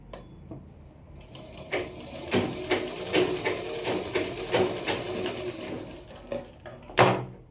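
A sewing machine stitches a strip onto a kaftan, running in a fast, rattling burst that speeds and slows over several seconds, close up, and ends with a sharp mechanical clack.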